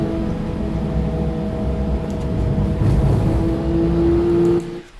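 A racecar engine drones steadily at high load from onboard, with a sustained whine rising near the end before the sound abruptly drops away.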